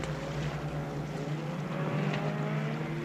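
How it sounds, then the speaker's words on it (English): A small outboard engine on a Zodiac inflatable boat drones steadily at moderate distance, a constant buzzing hum with a faint whine above it. "The noise of the Zodiac frightens the baby."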